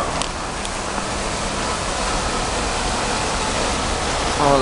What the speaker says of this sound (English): like a little waterfall.